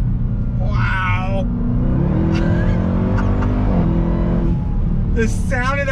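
A 2021 Dodge Durango Hellcat, a 710-horsepower supercharged all-wheel-drive SUV, accelerating hard: a loud, deep engine drone runs throughout, with excited voices talking over it.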